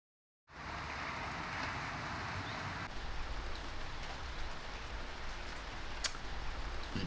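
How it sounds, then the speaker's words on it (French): Rain falls steadily outdoors after a brief silent start, a soft, even hiss of drops with one sharp tap near the end and no voices. "Il pleut."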